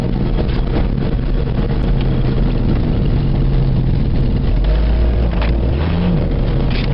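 A 1975 Dodge D100 pickup engine turning over, a loud continuous mechanical drone with a rising and falling low tone near the end, with no voices.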